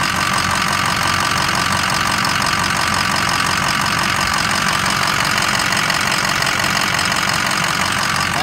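A warm 2007 Ford F350 with a 6.0 diesel engine idling steadily during a blow-by check, a loud, close, continuous rattling diesel clatter throughout with no talking.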